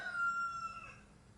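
A brief, faint rooster crow in the distance, a thin rising call that fades out quickly over quiet background noise.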